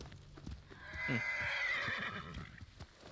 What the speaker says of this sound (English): Your horse is so angry.